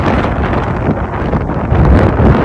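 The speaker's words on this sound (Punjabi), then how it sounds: "ਜੋਰ ਨਾਲ ਹਵਾ ਵੀ ਬੜੀ ਤੇਜ਼ ਚੱਲਦੀ ਹੈ" Strong wind blowing across farmland under clouds, a loud continuous roaring buffet against the microphone that surges slightly louder toward the end, with no voices.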